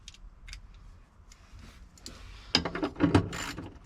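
Ratchet wrench clicking on the 13 mm steering column nuts of a Jeep Wrangler YJ, a burst of rapid mechanical ratcheting clicks near the end after quieter shop noise, close and fairly loud, with no voices.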